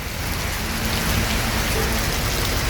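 Heavy rain pours steadily outside a bus ticket office in Palembang, a loud, unbroken hiss and patter with no voices.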